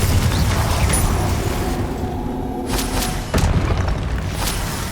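Confringo blasting spell explosions in the video game Hogwarts Legacy: heavy, loud booming blasts over dense combat noise, with sharp impacts landing near the middle of the sequence.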